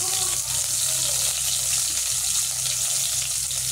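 Cumin, black cumin and cardamom sizzle hard in hot oil, a tempering for chitol fish curry, with a loud, steady crackling hiss that runs through the whole moment and no voices.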